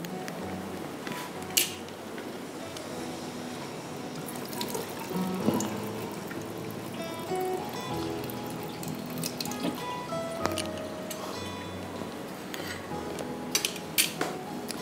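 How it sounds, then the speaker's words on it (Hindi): Soaked basmati rice being drained in a kitchen, a steady trickle of running water with clinks of utensils and pots against a sink, continuous and close. "इसका पानी निकाल के और इसको डाल दो।"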